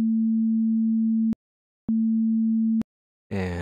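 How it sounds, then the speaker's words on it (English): A pure sine tone from a Serum software synthesizer, a steady clean hum heard in two sustained bursts separated by short silences, with a sharp click at each start and stop and a voice starting to speak at the end. "Serum is outputting a sine wave"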